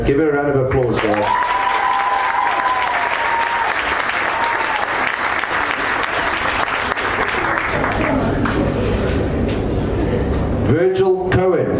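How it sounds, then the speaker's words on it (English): An audience applauds an award winner with loud, sustained clapping throughout. Cheers and shouts rise over it, and a voice speaks near the end as the clapping continues. "Give her a round of applause"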